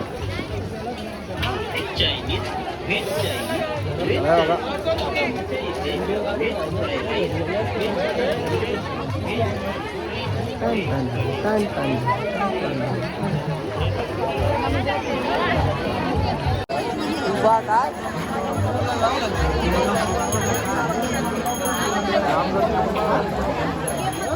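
Dense crowd chatter fills the grounds of Kelamba Devi temple, a steady wash of many overlapping voices close around, with a brief shift in the mix partway through but no break in the hubbub.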